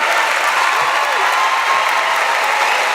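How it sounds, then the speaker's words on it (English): Steady, dense applause from a large crowd at a Republican political convention, a continuous wash of clapping that holds at an even level throughout with no break. "Freitas and E.W. Jackson drew lots of applause during their speeches."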